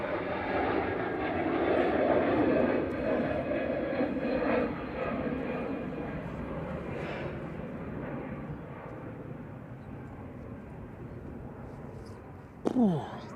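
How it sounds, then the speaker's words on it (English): A Turkish Airlines Airbus A321neo jet departs Manchester Airport in wind, its engine roar loud at first and slowly fading into the distance, with a brief sharp noise near the end. "flight 1994 there, A321 Neo TC LSJ departing"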